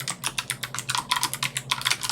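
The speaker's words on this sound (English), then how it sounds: "we can type in the command to install the project" Quick, close keystrokes on a computer keyboard clatter in an uneven rhythm as a command is typed into a Windows terminal, with no talk.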